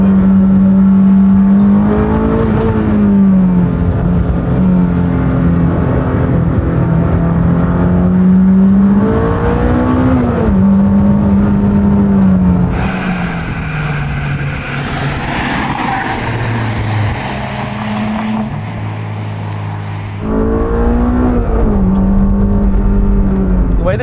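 A Honda S2000 engine revs hard while being driven on winding mountain touge roads, heard with the window down, rising and falling through gears with a sustained high-pitched wail, a brief quieter lift-off in the middle, then climbing again.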